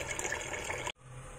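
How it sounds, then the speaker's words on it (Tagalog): Water pouring into a pot of beef bones set to boil, a steady close splashing fill that cuts off abruptly near the end, leaving a low quiet hum. "nilalagyan ko na ng tubig at pakukuluan ko na yan"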